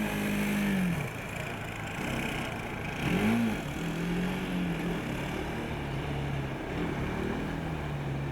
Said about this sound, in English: Clearly hear the engine revving.